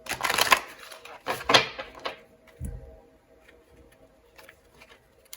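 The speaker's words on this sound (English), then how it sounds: "Sorry, the shuffling is not that good" Tarot cards are shuffled by hand in a few short, crisp riffling bursts, close and fairly quiet, trailing off into soft handling noises with a faint voice.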